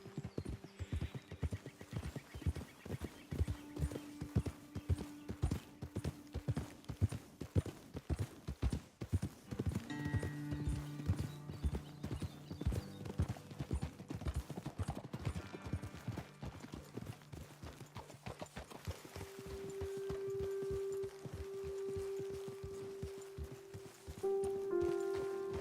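Horses' hooves clip-clop steadily through Red Dead Redemption 2, a dense rhythmic patter of several animals walking close by with an occasional whinny, continuing without any talk.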